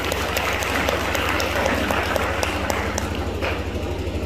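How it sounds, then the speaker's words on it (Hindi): Sustained applause from a crowd at a welfare society event, steady and dense throughout, with a low droning hum running underneath. "पुनः आपके लिए तालियां"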